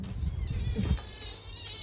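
A cat meows and caterwauls nearby in a home, with several drawn-out cries over a low background rumble and no talking.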